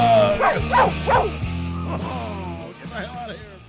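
Within a comedic song, a dog barks and yips several times in quick bursts over a steady musical backing, followed by softer whimpering yelps.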